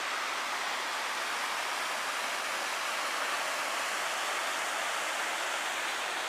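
High Falls waterfall in Algonquin Park, Ontario, in October rushes as a steady broadband roar, unbroken and fairly distant, with no voices over it.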